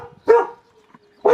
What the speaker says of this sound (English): when the dog's not out barking